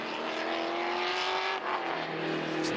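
A BMW factory race car engine roars at high revs during a race at Autobahn Country Club near Chicago, its pitch climbing steadily and then easing slightly, loud and continuous with no talking.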